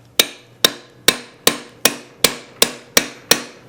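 A hammer strikes a seized part of a Briggs lever engine backed by rubber, nine sharp, evenly spaced metallic blows at about two per second, close and loud with quick decay between hits.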